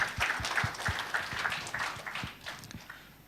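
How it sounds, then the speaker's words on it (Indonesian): A church congregation claps, with distinct sharp hand claps landing in a loose, fairly regular rhythm over a soft room background; moderately loud and close, no talking over it. "Tepuk tangan dulu yang kenceng buat Tuhan kita yang baik."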